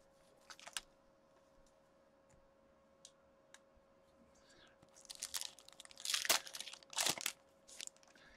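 Crinkling and tearing of foil wrappers as hockey trading card packs are ripped open during a box break, a few faint ticks first, then louder crunchy bursts up close.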